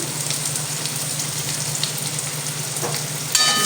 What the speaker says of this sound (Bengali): তেলটা গরম হয়ে গিয়েছে এবার দিয়ে দেব আলুগুলো ভেজে নেবো